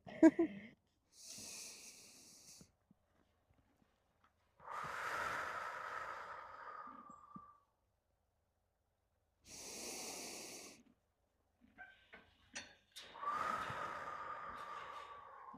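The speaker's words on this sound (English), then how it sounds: "you can tell that even the horses were picking up off that as well because of how Comanche blew out some tension then as well" A horse blows out and snorts in several breathy bursts, with quiet pauses between them and a rider nearby during an outdoor solo ride.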